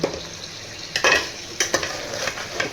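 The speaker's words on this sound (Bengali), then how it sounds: "এবারে ভালো করে কষবো" Ginger-garlic spice paste sizzles steadily in a hot pan as it is stir-fried for mutton korma, with a few sharp scrapes of the spoon against the pan rising above the frying.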